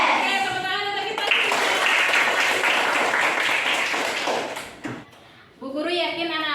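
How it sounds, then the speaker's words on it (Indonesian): A class of primary school children claps their hands together during a lesson. The clapping is a loud, dense, steady burst lasting several seconds between a teacher's talk, and it ends abruptly before her voice returns. "tepuk tangan untuk kita"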